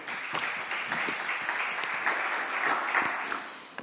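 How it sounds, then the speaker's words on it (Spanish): Sustained applause from an audience at a climate justice activism event, a steady dense clapping that holds evenly for several seconds, with a faint voice briefly audible beneath it. "Un fuerte aplauso para ella."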